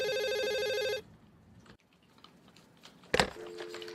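A telephone rings in a film office scene with a bright electronic trill that cuts off after a second, followed by quiet room tone, a sharp crack and a soft tone.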